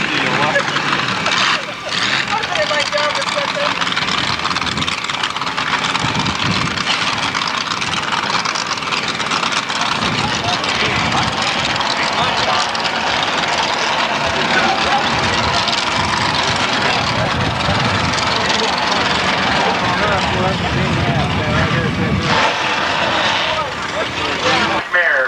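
A 500-cubic-inch mud run vehicle called Risky Business roars steadily and loudly through a 1990 Good Neighbor Days mud run in Washington, Illinois, a dense, continuous engine din with a public-address voice talking over it.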